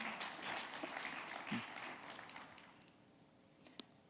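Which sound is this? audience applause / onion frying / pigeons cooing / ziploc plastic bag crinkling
audience applause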